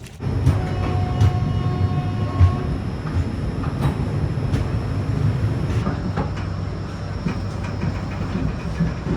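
An express train departing Kathgodam station rumbles steadily with rhythmic clattering of wheels on rails, a loud continuous roar close by, with brief squeals and clanks.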